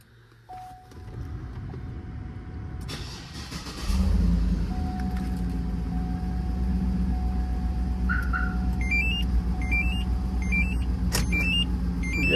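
A 2007 Cadillac Escalade fitted with a Compustar remote starter fires up and settles into a steady, close engine idle, with a few short electronic beeps chirping over the running motor.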